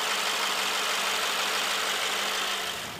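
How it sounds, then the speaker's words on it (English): Mercedes S580 with a 48-volt hybrid V8 starting in extreme cold, with no starter whine, settling straight into a smooth, even idle hum that runs steadily and fairly quietly throughout. "at face-shattering temperatures, the S580's 48-volt hybrid V8 engine smoothly glides to life with little more hesitation or"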